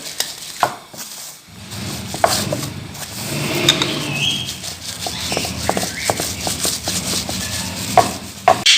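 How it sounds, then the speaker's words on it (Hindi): Rice roti dough being rolled out between two sheets, close and fairly loud, with repeated rubbing strokes and soft wooden knocks in an uneven rhythm and no voices. "और इस रोटी को बेल लेंगे"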